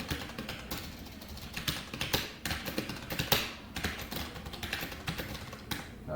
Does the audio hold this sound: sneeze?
no